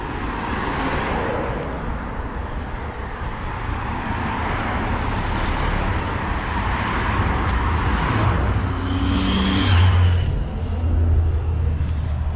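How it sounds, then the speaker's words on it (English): Cars travel along a busy road near Hanover on a Sunday evening, a continuous wash of tire and engine noise that swells as vehicles pass close by, with a heavier rumble toward the end. "You can see just how many cars do actually use this road"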